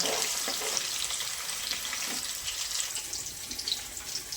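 Paneer cubes fry lightly in a pan, giving a steady, even sizzle with faint watery crackle, close and continuous throughout, no voices.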